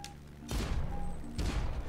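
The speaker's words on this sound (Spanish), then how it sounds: "Puedo mover el ángulo de las armas para disparar." Two heavy booming blasts from flying-ship cannons in the video game Black Skylands, each followed by a rumbling tail, loud and close.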